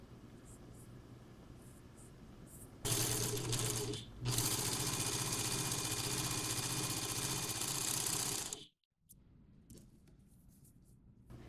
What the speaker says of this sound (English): And now we're going to overlock this as well.